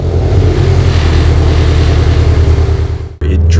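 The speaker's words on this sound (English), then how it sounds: "with the FRS exhaust, it's just ridiculously loud all the time." Car fitted with a loud aftermarket FRS exhaust, its engine note droning deep and steady up close, then cutting off abruptly and resuming near the end.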